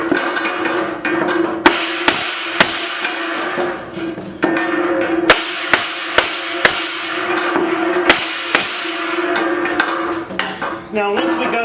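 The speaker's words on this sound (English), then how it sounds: "I have a leather hammer here" A leather hammer beats a sheet of recycled metal flat, giving a series of sharp, ringing metallic blows at irregular intervals, close and loud, with a ringing tone lingering between strikes.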